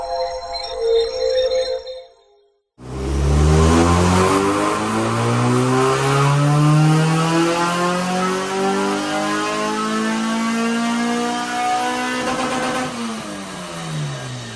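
A Honda Civic EP3 Type R engine revs up loud and close on a dyno through a long rising sweep, pitch climbing steadily for several seconds before cutting back near the end.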